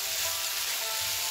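Vegetable noodles cooking on high heat in a pan, producing a steady, loud, close sizzle that runs unbroken with no voices.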